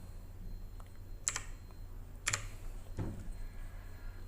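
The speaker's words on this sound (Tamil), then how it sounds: "இப்போ மறுபடியும் அதை டைப் பண்ணிக்கிறேன்." A few sparse, sharp keystrokes on a computer keyboard, spaced about a second apart against a quiet room hum, with no talking.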